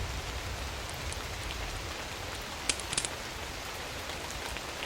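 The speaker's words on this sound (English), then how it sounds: "water pummels the roof" Heavy rain pounds steadily on a roof in a constant dense hiss, with a few brief sharper drips or taps standing out partway through; no voices.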